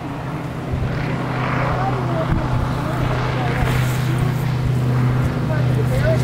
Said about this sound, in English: The plane just went over